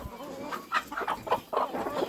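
Chickens clucking close by, several short bursts of agitated clucks in quick succession.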